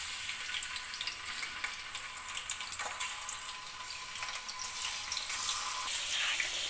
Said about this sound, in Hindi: ऑयल गर्म हो गया, ये इसमें मैं चिकन डाल रही हूँ।